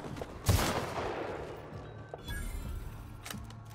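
Gunfire in the video game The Outer Worlds: a sharp shot burst up front, followed by a couple of fainter shots amid a steady mechanical game background.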